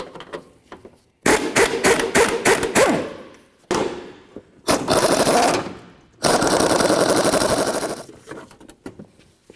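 A power tool zips off the strut mount nuts on a 2007-2017 Jeep Compass in several loud close bursts of rapid hammering rattle, with short pauses between them and the last burst running longest.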